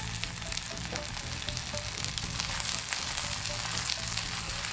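Seafood usuyaki batter with squid and spring onion sizzles over medium-low heat in a pan, a dense, continuous crackling fry close by with no pauses.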